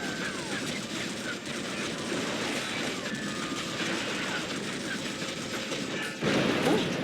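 In the Western video game Red Dead Revolver, a train rumbles and clatters steadily while rapid gunfire rattles over it, ending in a louder burst as the engine is blown up, with commentary talking over the scene.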